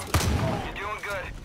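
A shotgun blast in Far Cry 5, one sharp loud report near the start followed by a short rumbling tail, with a voice speaking briefly afterward.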